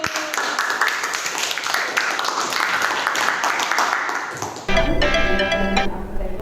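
An audience at a school teachers' training session at SMK Negeri 3 Bondowoso claps for about four seconds in a dense wash of applause, then it cuts to a bright ringing tone with a low hum.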